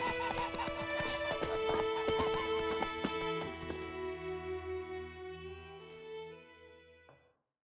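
Horse hooves clip-clop in a rapid gallop in The Witcher 3 game, with a neigh and game music tones, the hoofbeats slowing and fading before stopping.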